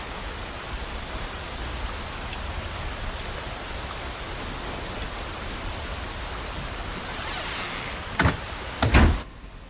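Heavy rain pouring in a steady, dense hiss for several seconds, then a couple of close knocks or thumps near the end before it cuts off.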